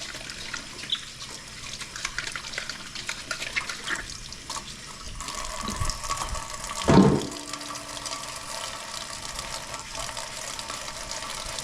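Tap water runs into a kitchen sink while a pot lid is rinsed, a steady hiss and splash that swells midway with a brief louder gush, no talking.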